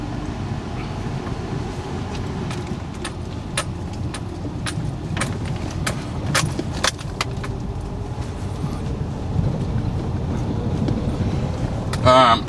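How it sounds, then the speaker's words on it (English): A Ford Falcon BF Mark 2 RTV ute with a big six engine drives on a road, a steady low engine and road rumble with wind noise and faint clicks, voices present. "Okay, driving in the RTV."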